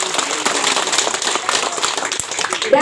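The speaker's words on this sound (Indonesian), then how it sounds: "Mari kita berikan aplaus untuk beliau." An audience applauds at a farewell ceremony honoring a retiring employee after twenty years of service. The clapping is dense, steady and crackling, filling the room evenly throughout.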